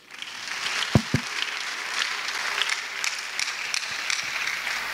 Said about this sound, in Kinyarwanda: Duhe Yesu amashyi menshi